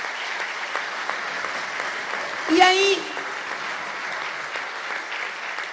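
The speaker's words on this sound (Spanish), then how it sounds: "Esto lo dijo y estaban todos aplaudiendo." Audience applauding at an event, a steady wash of clapping that runs beneath a voice talking over it throughout, with a brief louder swell partway through.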